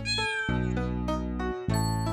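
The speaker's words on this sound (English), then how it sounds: "Mary, looks like your cats wanted to ride in my fire engine." Cats meowing in a cartoon nursery-rhyme scene, several long tonal meows in quick succession, close and clear with no talking over them.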